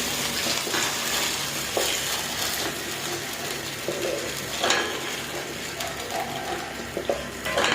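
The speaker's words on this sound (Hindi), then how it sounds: "अब हमने जो सूजी भिगो के रखी थी इसको हम इसमें ऐड कर देंगे और आग बहुत कम करेंगे, इसके छींटे उड़ेंगे" Soaked semolina hits hot oil in a pan for suji halwa and fries with a dense, steady sizzle and spatter. Occasional clinks and scrapes of the pan sound over it.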